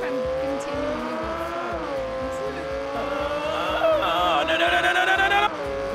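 A Lamborghini with no brakes in the BeamNG.drive driving game gives a steady, rising engine whine that climbs in pitch with tire noise underneath, loud and continuous throughout.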